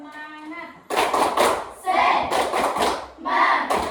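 A school class performs the rhythmic tepuk semangat clapping chant, with a voice calling out followed by bursts of group clapping and chanting in short patterned phrases, loud and close in a classroom.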